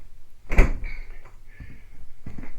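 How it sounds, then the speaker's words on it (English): A camper kitchen drawer opens with a sharp wooden knock and slide, followed by a couple of softer bumps and rattles as it settles, close and fairly loud with no talking. "The kitchen drawer"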